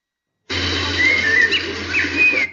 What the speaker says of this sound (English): I hear you, Steve, and then the bird starts to chirp.